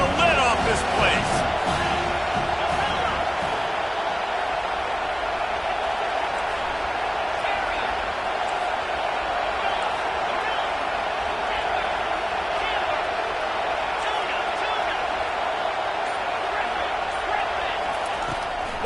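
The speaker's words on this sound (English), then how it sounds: "this crowd is tearing the lid off this place" A loud college football stadium crowd on third down roars in a sustained, dense wall of cheering and noise that holds steady throughout, with some talk mixed in.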